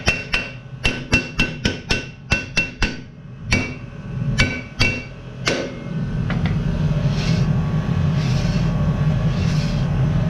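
Hammer tapping on the rear brake of a Fiat Ducato van: sharp metallic knocks in quick bursts, about fifteen strikes over six seconds, followed by a steady mechanical hum.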